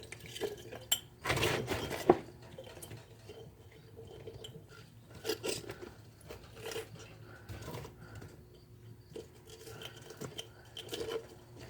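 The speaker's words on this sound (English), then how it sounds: "That's all I do is just get these jars filled up." Glass jars being filled with pickled mixed vegetables, with repeated light clinks and clatters of glass and utensils, a few sharper knocks near the start, all close by in a quiet kitchen.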